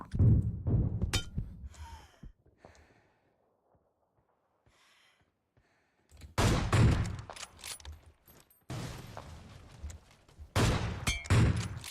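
Gunfire in the battle-royale video game PUBG Mobile: bursts of shots open the clip, then a quiet lull, followed by loud repeated bursts of fire with breathy voice sounds and brief exclamations between them.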